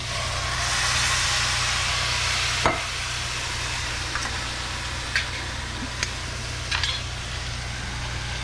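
Chickpeas and tomato chunks for chana masala sizzle loudly and continuously in a hot pan, with a few sharp clacks of a spoon stirring against the pan.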